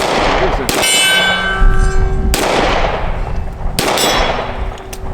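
Three loud, sharp gunshots from a Smith & Wesson M&P 40C compact pistol firing 180-grain hard cast coated hand loads outdoors, evenly spaced about a second and a half apart, each ringing out with a metallic tail.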